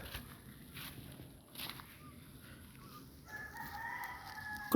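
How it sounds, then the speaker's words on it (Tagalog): A rooster crows near the end among scattered chickens outdoors, a drawn-out call rising over a low, steady background with faint earlier sounds. "Yung mga manok ko nagkalat."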